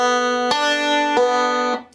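Open-string banjo roll: three widely spaced bright plucks, each ringing out over the last, before the sound cuts off near the end.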